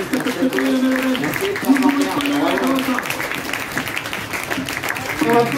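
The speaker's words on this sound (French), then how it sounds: "Cher public, je vous demande d'applaudir en musique." An audience at a children's event with a skipper claps along to music, a dense patter of hands mixed with singing and voices throughout.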